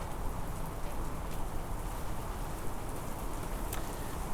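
Steady rain pours down evenly throughout, a dense continuous hiss with no voices.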